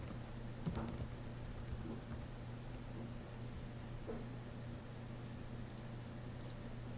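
Keys tapped on a computer keyboard to enter search phrases, a few faint scattered clicks against a steady low hum of room noise.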